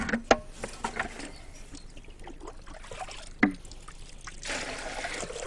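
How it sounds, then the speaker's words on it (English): Water scooped out by hand indoors, heard as a few sloshing pours and trickles with scattered clunks and knocks, fairly quiet against a hushed room. "I presume that this is scooping out the water."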